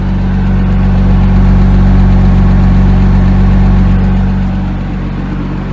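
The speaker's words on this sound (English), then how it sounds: "Engine is alive, so I don't want to crank it for too long or run it for too long" A flood-damaged 2008 Porsche Cayman S engine, hit by Hurricane Helene, runs close and loud with a steady rumbling idle and a slight drop in level near the end, with no talk.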